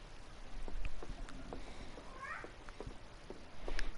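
A cat meows once at mid-distance over a steady hiss of low background noise, a short rising-and-falling call with scattered faint clicks and taps around it, no talking.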